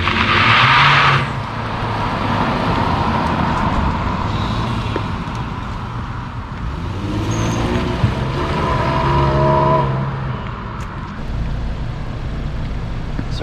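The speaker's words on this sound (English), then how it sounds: "Spinning the wheels in your little red sports car?" A red sports car revs and spins its wheels, a loud roaring engine with a sharp burst at the start and a rising, falling surge of tire and motor noise, heard close with no voices.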